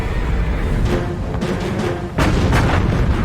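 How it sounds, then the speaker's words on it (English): Heavy naval guns of the battleship Bismarck firing one-ton shells, deep booming blasts rolling out with a loud thump near the end, no voices. "Bismarck opens fire. Lethal one-ton shells tear toward Hood."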